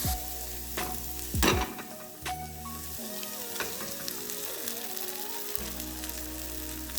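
Eggs sizzle and fry steadily in a pan with lox and onions, a continuous close crackle with occasional stirring or poking, moderately quiet, with a steady hum underneath.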